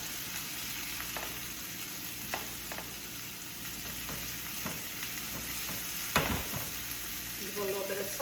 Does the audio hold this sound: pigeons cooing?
no